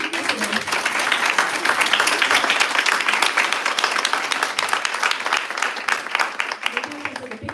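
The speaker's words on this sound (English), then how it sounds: "And maybe a round of applause to all of our speakers today." An audience at a Brazilian-American Chamber of Commerce panel event applauds the speakers with sustained, loud, dense clapping that swells and then eases toward the end. A few voices mix in.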